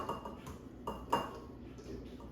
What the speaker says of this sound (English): you really want to force all that potato through that fine strainer